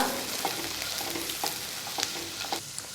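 Steady sizzling of vegetables sautéing in a pan for sweet corn vegetable soup, with occasional spatula scrapes and stirring clinks, close and continuous.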